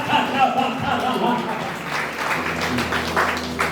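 A congregation claps in praise at a Sunday church service: dense, sustained handclapping with a hum and musical tones underneath, steady and moderately loud for a few seconds.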